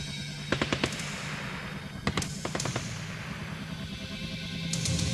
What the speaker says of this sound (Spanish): una terrible explosión sorprende a todos